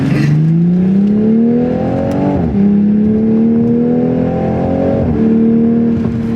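Bagged Toyota Supra accelerating hard, its engine note climbing in long sweeps through the gears with brief dips at each shift, loud and close from inside the car, with no talk.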